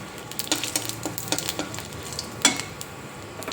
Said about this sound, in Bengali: এবার এই তেলের মধ্যে একটা শুকনো লঙ্কা দিয়ে দেব আর একটু পাঁচফোড়ন দিয়ে দেবো